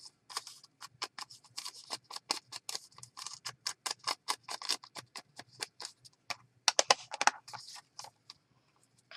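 Scissors snip steadily through paper, a quick regular run of sharp cutting strokes with a denser burst near the end before stopping.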